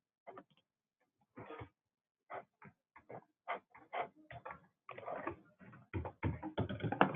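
Keys clatter on a computer keyboard while entering a bank transfer amount, quiet uneven bursts of taps that start sparse and quicken into a denser run, heard alone and close.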